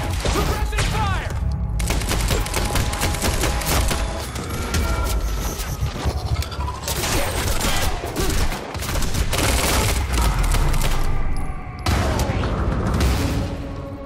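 Heavy gunfire in a Quantum Break firefight, with loud, dense bursts of automatic shots and booming impacts running almost continuously, while voices speak over the shooting.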